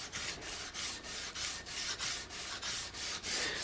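Coarse sandpaper backed by a hard flat file sands the wooden stock of a Kibler Southern Mountain flintlock rifle, making steady rhythmic rasping strokes, about ten back-and-forth passes, close and loud with no talking.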